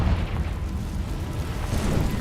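A Confringo fire spell explodes in the Hogwarts Legacy video game, giving a loud, close, rumbling boom that keeps roaring steadily for a couple of seconds. No one speaks over it.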